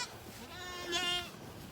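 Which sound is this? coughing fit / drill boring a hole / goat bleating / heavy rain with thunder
goat bleating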